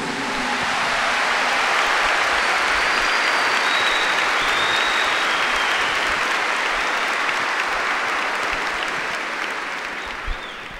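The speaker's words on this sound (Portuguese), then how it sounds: "Give the Lord a big clap for that." Church congregation at a healing service applauding, a loud, dense, sustained wash of clapping from a large gathering that holds steady and tapers slightly at the end, with no talking over it.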